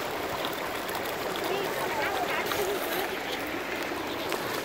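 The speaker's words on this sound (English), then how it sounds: "these are the people that are spraying water" People spraying water outdoors make a steady, broad hiss and rush that runs unbroken throughout at moderate distance, with no clear pauses.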